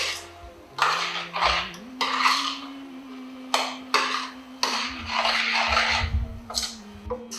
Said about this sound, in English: Now I'm going to stir this in with the tomato.